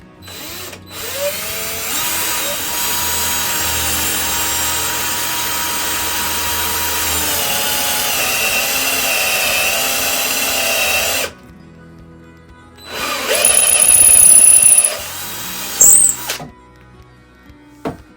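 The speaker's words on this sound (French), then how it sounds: "Et puis on va percer ça." A drill bores a hole in wood for a Windsor stool, a loud, close, steady whine for about ten seconds, then a brief pause and a shorter second burst.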